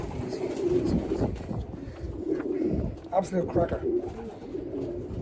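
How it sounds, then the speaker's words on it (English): Pigeons coo in a loft, low soft repeated coos mixed with fluttering and shuffling, while someone talks over them close by. "Beautiful little pigeon."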